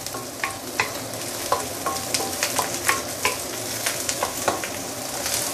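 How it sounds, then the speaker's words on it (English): Prawn shells pan frying with a steady sizzle, punctuated by repeated clicks and scrapes of stirring at an uneven pace, close and moderately loud. "Pan frying the prawn shell."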